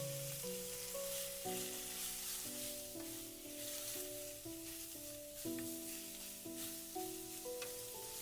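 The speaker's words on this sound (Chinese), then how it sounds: "油热后，把葱蒜末倒进去翻炒出香味" Chopped scallion and garlic stir-fry in hot oil in a wok for a potato and egg dish, a soft, steady sizzle heard faintly beneath background music.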